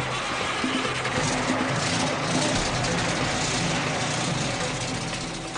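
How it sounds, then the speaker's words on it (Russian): A 600-horsepower engine on the fourth trailer of an Australian road train runs with a steady, loud, continuous rumble and hum, unchanging throughout. "На четвертом прицепе установлен двигатель мощностью 600 лошадиных сил."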